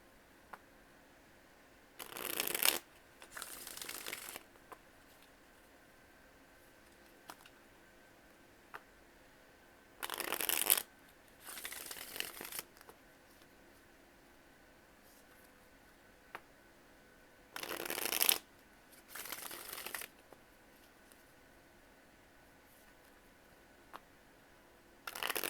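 Tarot cards being shuffled in quick riffling bursts, six short crisp flurries spaced through a quiet room with soft pauses between them.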